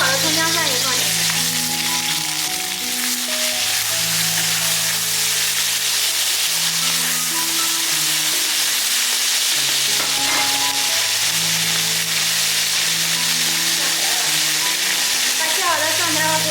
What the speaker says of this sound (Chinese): 下面开始炒凉粉了，往里面加一勺豆瓣酱。 切好的葱姜蒜也放进去。